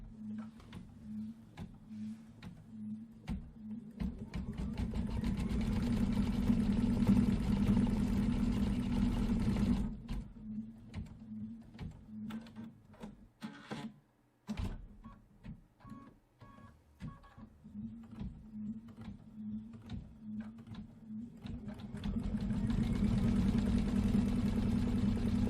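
Embroidery machine stitching a silver-thread basket design for a Main Street pillow wall hanging, a steady rapid mechanical chatter and hum running throughout at close range with brief pauses near the middle.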